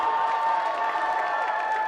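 Applause sound effect played over a livestream, a steady wash of crowd clapping and cheering filling the short moment without a break.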